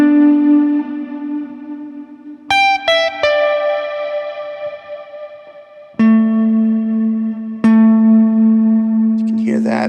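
Guitar run through a Strymon Cloudburst reverb pedal stacked into a spring reverb: sustained chords and single notes ring out with a long, wide, washy tail, played alone and fairly loud.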